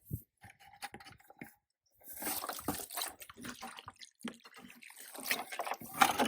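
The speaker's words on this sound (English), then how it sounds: "A little water." Water trickles and splashes onto loose soil around a newly planted bare-root fruit or nut tree outdoors, an irregular run of soft, close pours and drips that grows busier in the second half.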